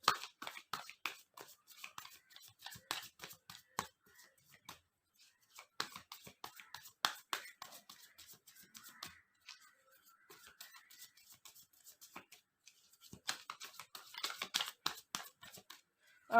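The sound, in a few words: shuffling tarot cards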